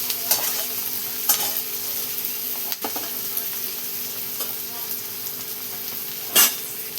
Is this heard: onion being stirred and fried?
yes